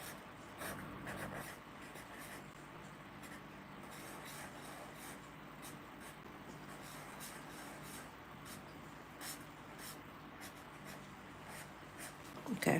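A pen scratches and rubs across paper in a soft, continuous sequence of strokes, quiet and close, with a few faint knocks and a small bump at the end; no talking.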